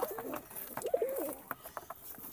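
Pigeons coo softly nearby, a couple of throaty warbling calls over faint rustling and background clatter.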